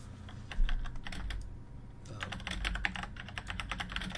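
Close, rapid clicking of fingers typing on a computer keyboard during a Star Trek Online gaming session, keystrokes tapping in quick bursts with a brief lull near the middle.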